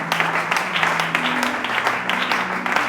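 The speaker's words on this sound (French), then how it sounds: "Est-ce qu'on peut acclamer Jésus?" Loud, dense applause and cheering from a church congregation acclaiming Jesus, steady rapid clapping mixed with voices over a held musical tone from an instrument.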